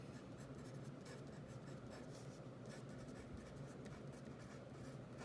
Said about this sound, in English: I'm going to go through and write these numbers down real quick